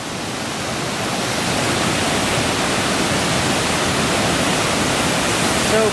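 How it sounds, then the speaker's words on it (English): Whitewater rapids on the Niagara River roar in a steady, loud, close rush of churning water, with no breaks over the whole stretch. "It's from all this whitewater, and we're walking right alongside of it"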